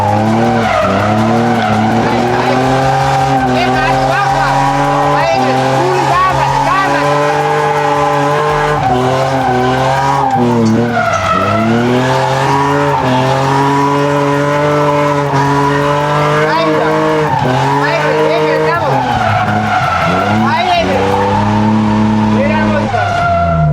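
A car drifts during a drift lesson. Its tires screech loudly and continuously over a straining, revving engine as it slides through long, wavering squeals.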